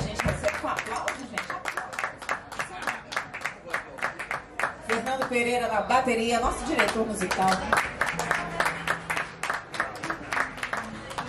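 Audience applause for band members at a Brasilidades live music show, heard as steady rhythmic clapping throughout while a presenter speaks over the middle stretch.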